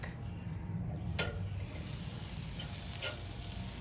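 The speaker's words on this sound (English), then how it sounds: "we're going to place these 4 to 5 inches above the heat, and they will begin to flame up" Shrimp skewers sizzle over grill heat as butter melts and flares, a quiet, steady hiss with a few sharp crackles popping through.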